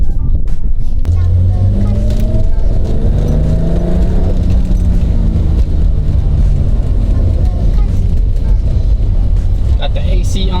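A BMW E30 is driving, heard from close by as a loud, continuous engine drone that climbs in pitch as the car pulls through the gears and then holds at a steady cruising note.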